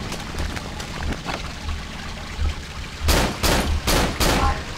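Gunshots fired at an enemy in the horror game Cry of Fear: faint scattered pops, then four loud, sharp shots in quick succession near the end.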